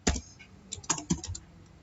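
Short bursts of typing on a computer keyboard, a handful of quick key clicks close up with brief pauses between them.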